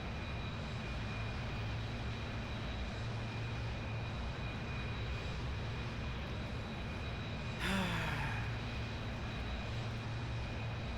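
A plane cruises at altitude in Kerbal Space Program, with a constant, even engine drone and a whining tone that holds for the whole stretch. A brief sweeping whoosh cuts through late on.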